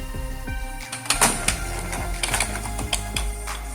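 An Epson L120 inkjet printer runs close by, its mechanism clicking and ratcheting in quick bursts with whirring gear movement between.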